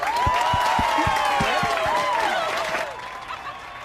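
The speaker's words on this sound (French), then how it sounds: "Applaudissez bien fort le roi et la reine." A crowd at a school prom claps and cheers loudly for the newly crowned king and queen, with whistles and excited voices rising over the applause before it gradually fades.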